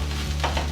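Okra masala being stirred in a frying pan with garam masala and amchur powder, giving a soft continuous sizzle with a few brief scraping strokes, close and moderately quiet.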